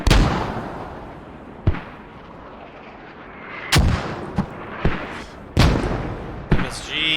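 Mortar shells burst repeatedly in a multiplayer squad battle, roughly half a dozen sharp blasts at irregular intervals over a continuous low rumble of distant fire, some booms loud and close, others softer.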